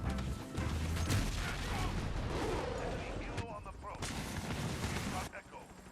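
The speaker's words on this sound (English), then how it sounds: "Calls in a VTOL anywhere on the map, and of course it's right over my fucking head" Heavy gunfire from a VTOL gunship circling overhead in a multiplayer shooter, a loud, dense barrage of booming shots and blasts that runs for several seconds, then drops away briefly before resuming and fading.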